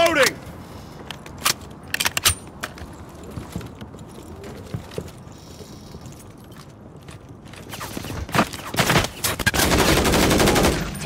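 Gunfire in Call of Duty: Modern Warfare 3, scattered sharp shots and short bursts of rapid fire, some near and some distant, building to heavy sustained firing at the end, with game radio voices in between.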